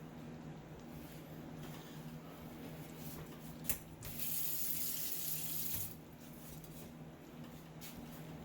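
Cooked spaghetti noodles are tipped into a kitchen sink to drain, giving a steady, moderately loud rush of running water with a brief splash burst midway, then a continuing trickle.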